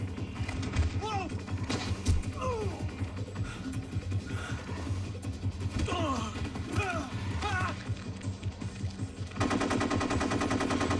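Rapid gunfire in Metal Gear Solid 3: Snake Eater, steady repeated shots under game music and voices, ending in a denser, louder burst of fire.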